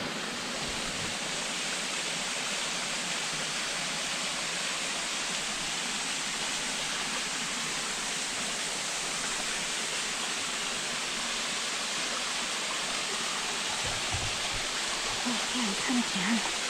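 A waterfall along a muddy hiking trail roars as a steady, dense rush of falling water, constant and fairly loud throughout, with brief faint voices nearby toward the end.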